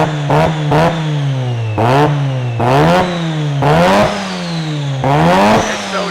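A car with a sporty exhaust revs repeatedly, about six sharp blips climbing and falling over a loud steady idle rumble, close and alone with no talk.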